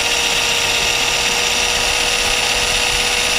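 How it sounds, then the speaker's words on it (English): A power drill bores a hole through a metal key, a loud, continuous high-pitched whine close by that holds steady throughout with no voices. "I'm gonna get the drill with the drill bit, and I'm gonna make a hole through the key."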